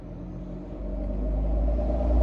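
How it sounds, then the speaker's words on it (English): A noisy truck passes on the street in front of a house, heard from indoors as a deep engine rumble that swells steadily louder, with no voices. "the truck was awfully noisy out the front of my house"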